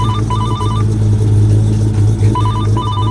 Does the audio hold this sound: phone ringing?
yes